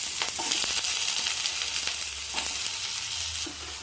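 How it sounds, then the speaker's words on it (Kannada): Drumsticks sizzle steadily in hot oil over a medium flame while South Indian drumstick saru is being made, with a few soft clicks from stirring. The frying is close and continuous, and no one talks. "ಚೆನ್ನಾಗಿ ಫ್ರೈ ಮಾಡ್ಕೊಳ್ಳೋಣ."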